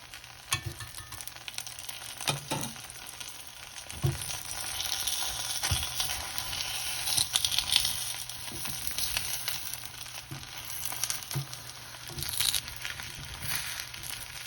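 A Vietnamese crispy pancake, bánh xèo, cooking in hot oil: a continuous loud sizzle with scattered scrapes and taps from a spatula, and no talking.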